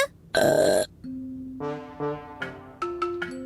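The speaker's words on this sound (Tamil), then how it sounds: "உன்னோட ஏப்பம் ஏப்பம்" Cartoon burp sound effect in a Tamil children's cartoon, one loud, rough belch lasting about half a second, followed by a short run of stepped, bell-like chiming tones.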